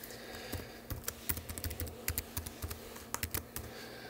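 Quick, uneven clicks of a computer keyboard as a root password is typed to SSH into an ESXi host, the keystrokes close and fairly quiet, coming in short bursts with no talking.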